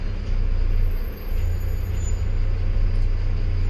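Steady road traffic rumble heard from inside a Volvo bus on a Kaliyakavilai to Chennai route, a loud continuous low drone with a brief dip near the middle and no talking.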